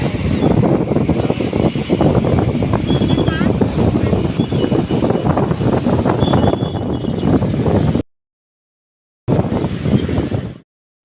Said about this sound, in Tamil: நீங்களே கேட்டிருப்பீங்க அந்த அலை சவுண்டு